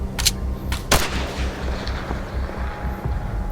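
Gunfire from the video game Tactical Assault VR comes in a few sharp shots over a steady rumbling background, with no voices.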